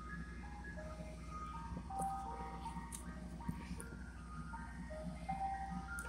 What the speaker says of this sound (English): let's see what kind of ice cream truck comes